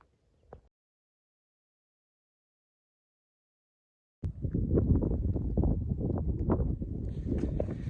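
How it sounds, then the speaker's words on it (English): Strong, steady wind buffeting the microphone on a trapline, a loud roaring rush after a few seconds of near silence. "So it is super windy today."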